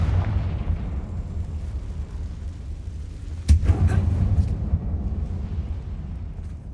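A Confringo fire spell from Hogwarts Legacy goes off as one sharp burst in the middle, set against a low rumbling game background, with no voice present.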